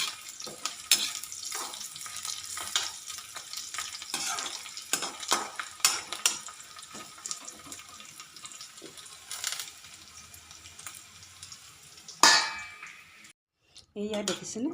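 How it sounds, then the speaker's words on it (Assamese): Pumpkin and potato being stir-fried in a pan, with repeated spatula scrapes, clinks against the metal and a low frying sizzle in bursts, fairly close, ending with a sharp clang and a brief pause. "ৰঙালাও ভাজি ধুনীয়াকৈ সিজিলে"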